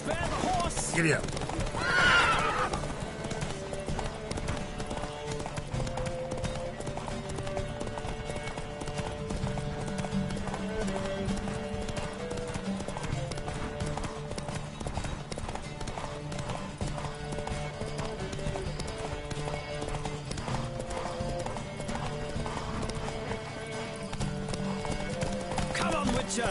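Horse in a race in Witcher 3, galloping with steady rhythmic clip-clop hoofbeats and a clear loud neigh near the start, over a continuous background of game music or ambience.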